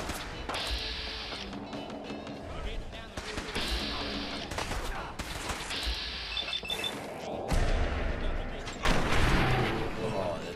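Gunfire in the video game Fallout 4 as the player kills gunners, with repeated bursts and heavy shots in clusters over continuous background game noise, loud and close, with no talking.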